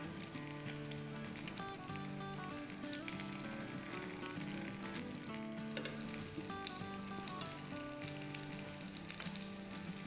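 Shahi kababs fry in a pan with a steady, dense sizzle that stays even and close throughout, with no voices over it.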